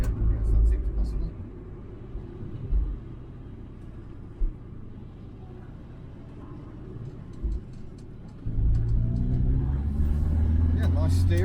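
A Triumph Mayflower drives through town streets, its engine rumbling steadily up close with a louder surge of revving near the end; people talk over the car's hum throughout.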